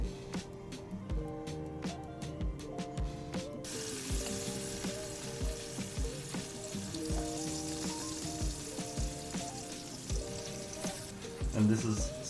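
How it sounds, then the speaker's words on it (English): Coconut oil hits a hot pan and begins a soft, hissing sizzle, quiet and continuous beneath clattering utensils and kitchen handling noises, with a person talking over it. "I think that's hot enough to start putting the coconut oil in."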